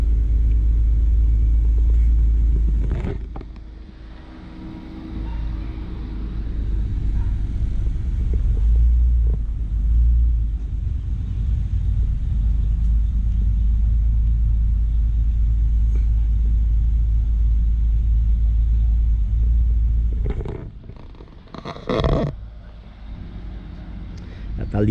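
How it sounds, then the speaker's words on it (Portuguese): A driving-school car edging into a parallel parking space during a student's first attempt, a low continuous engine rumble with idle and gentle throttle, near and steady, ending in a brief clatter. "Alinhando o carro agora, ó, galerinha."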